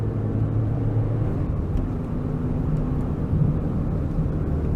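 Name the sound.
Peugeot 205 diesel car engine revving uphill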